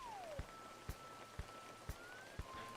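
Rain effect in a Godot video game, a steady synthetic patter with soft regular thumps roughly every half second and a faint thin tone underneath, quiet and even throughout.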